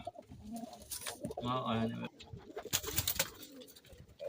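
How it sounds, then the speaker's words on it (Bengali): Domestic pigeons of several breeds, including a sandalwood-marked type, cooing in a loft, a low throaty burst standing out mid-clip amid other bird calls and background chatter. "এটা হচ্ছে সচন্দন পায়রা"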